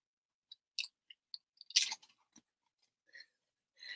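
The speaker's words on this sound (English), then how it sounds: "You hear that crunch?" Someone bites into a crunchy fortune cookie, giving a scattering of sharp, crisp crackles and a brief louder crunch in an otherwise silent room.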